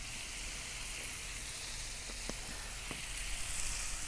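Onions sizzle steadily in olive oil on a Kamado Joe ceramic grill, a constant close frying hiss with a few sharp pops and crackles.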